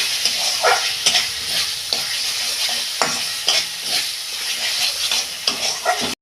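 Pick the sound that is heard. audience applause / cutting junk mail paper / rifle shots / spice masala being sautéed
spice masala being sautéed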